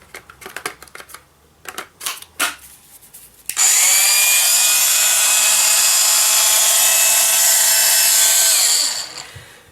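A Proxxon LHW angle engraver fitted with a Chinese chuck is switched on after some handling clicks and runs with a steady, loud high-pitched whine for about five seconds before spinning down.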